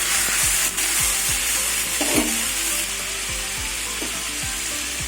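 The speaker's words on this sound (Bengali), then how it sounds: "ফুলকপি আলু ভেজে নেবো" Cauliflower and potato pieces fry with onions in a pan, giving a loud, close, steady sizzle and repeated sliding thuds from a spatula turning them, with no talking.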